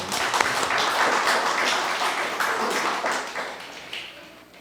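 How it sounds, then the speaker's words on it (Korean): Church congregation clapping in encouragement after a youth group's worship singing, a dense, lively wash of many hands that holds steady and then gradually fades out. "우리 격려의 박수로."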